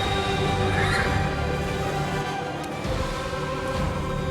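Horse in the video game Pathfinder: Wrath of the Righteous whinnying amid game ambience, a prolonged loud neigh over a dense steady background with faint clip-clop.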